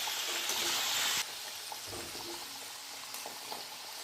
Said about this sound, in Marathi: मुठल्यांना सोनेरी रंग येईपर्यंत तळून घेऊयात।